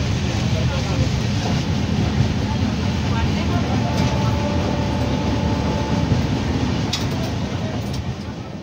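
Inside the sleeper coach of the Shalimar–Puri Superfast Express, a loud steady rumble of the running train fills the whole stretch, with faint rattles and a voice talking over it.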